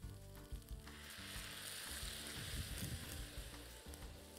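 White wine sizzles and hisses loudly as it is poured into a hot frying pan over high heat, a dense crackling frying sound with some stirring, heard up close without speech.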